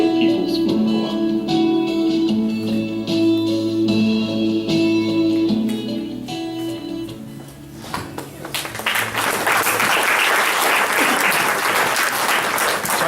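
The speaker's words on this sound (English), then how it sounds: "I'd say one more round of applause for our wonderful panel" Audience applause for a community panel discussion, starting under a lingering tonal hum and then swelling into full, dense clapping from a sizeable crowd that continues to the end.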